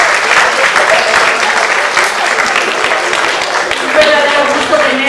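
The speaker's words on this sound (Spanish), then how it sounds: "Un gran aplauso, por favor." An audience applauds at the end of a talk on how to write a novel. The loud, dense clapping from many hands carries on steadily throughout.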